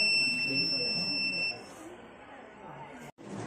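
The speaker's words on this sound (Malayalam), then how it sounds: "വീട്ടിലൊക്കെ ഉപയോഗിക്കാൻ പറ്റിയ ഒരു അലാറം സിസ്റ്റം" A home security alarm buzzer built as a school robotics project sounds a sustained high electronic tone for about a second and a half, then stops, with crowd chatter and talk around it in a busy hall.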